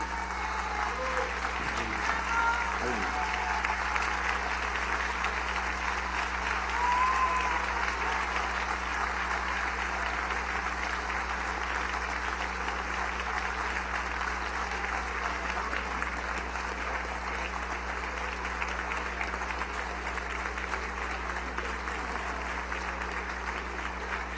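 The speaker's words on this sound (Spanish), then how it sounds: "Yo pido un aplauso de pie" A large assembly gives a standing ovation at a Venezuelan political gathering, with sustained dense applause alongside a constant electrical hum and a few faint voices beneath the clapping.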